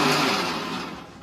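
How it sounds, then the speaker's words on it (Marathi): Mixer grinder grinding a masala of roasted onion and coconut: a steady, loud motorised whir, close by, gradually easing in the last moment. "आणि आता मसाला वाटतो."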